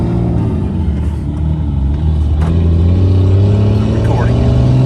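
A Ram 2500 truck with long-arm suspension and traction bars cruises down a road, with steady engine rumble and tire drone that rise slightly in pitch as it accelerates, and people talk over it.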